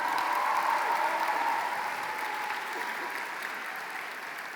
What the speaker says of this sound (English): Let's have a round of applause for Mr. Boosie.